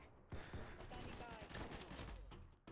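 Shotgun blasts in the shooter game Combat Master fire in a dense, loud stream of gunfire with mechanical clatter, continuous across the stretch under faint background game noise.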